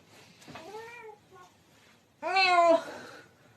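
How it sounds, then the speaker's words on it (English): A house cat meows twice while begging to get up onto a bed, a short rising-falling call followed by a pause and then a louder, longer, more insistent meow, close by. "As soon as I get my other cat, who's begging to get on the bed."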